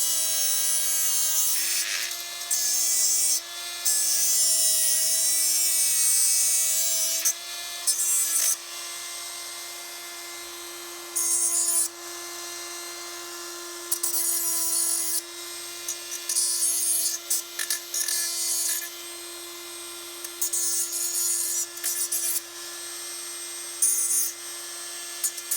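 Wire from a clothes hanger being trimmed down into a servo rod, a steady whining tool tone running throughout with bursts of harsh grinding and rasping that come and go in uneven spells, close and fairly loud with no talking.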